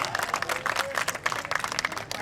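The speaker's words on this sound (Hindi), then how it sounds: "बहुत सारी तालियां।" An audience at the Karachi Games 2023 opening ceremony applauds, with dense, steady clapping from a large crowd in a pavilion, close and continuous throughout.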